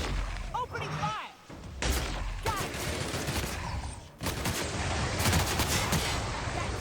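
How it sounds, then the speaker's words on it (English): Gunfire in The Outer Worlds erupts in repeated sharp, loud bursts of shots with brief pauses between volleys, close and forceful, while a voice talks over parts of the exchange. "Opening fire!"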